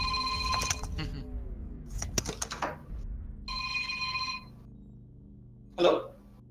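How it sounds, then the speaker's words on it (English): A telephone bell rings in clear repeated bursts with pauses between them, loud and close, inside a room where a game is being played. "And there's that goddamn phone."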